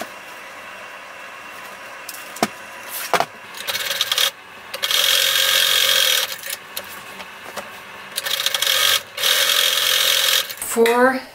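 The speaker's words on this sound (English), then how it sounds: "sew this along this edge with a 3/8 inch seam allowance," Sewing machine stitching a tote bag seam with a 3/8 inch seam allowance: two sustained whirring runs of fast needle action, each several seconds long, separated by pauses with fabric handling and someone talking.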